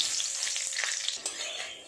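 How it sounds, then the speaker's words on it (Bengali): Peanuts frying in hot oil in a wok, with a steady, close hiss of sizzling broken by faint scrapes as they are stirred, and no voices. "দিয়ে দেব কিছু বাদাম দু তিন মিনিট মেরে চেড়ে বাদামটা ভেজে নেব"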